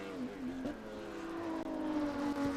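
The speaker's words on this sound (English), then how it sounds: "Alfa Romeo GTV Group 8 B sedan car." An Alfa Romeo GTV Group 8 B sedan race car at Mid-Ohio drones with a steady, slightly rising engine note at moderate distance, with no voices over it.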